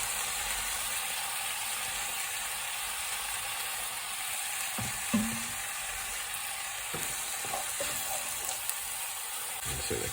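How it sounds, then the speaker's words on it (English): Mushrooms and herbs frying in a pan deglazed with red wine, a constant hissing sizzle with a few faint clinks and utensil taps, close and steady. "we're just going to deglaze the pan, a little bit of red wine. So, in with our mushrooms and herbs."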